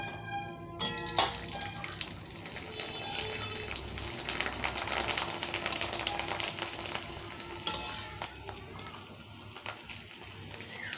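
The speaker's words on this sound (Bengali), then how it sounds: "এটাকে ভাজতে হচ্ছে" Sago papad frying in hot oil, giving a soft continuous sizzle and bubbling with occasional stirring clatter, faint and close, with brief sharp clinks of utensils.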